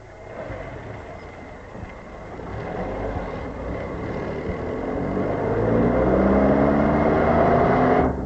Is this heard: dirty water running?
no